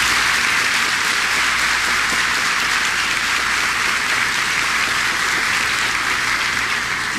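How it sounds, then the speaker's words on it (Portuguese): A parish congregation applauds loudly and steadily at the closing Mass of a church's engaged couples' course, a thick continuous roar of clapping hands that holds for several seconds with no speech. "Uma salva de palmas para eles."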